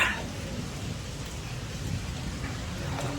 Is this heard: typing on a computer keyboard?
no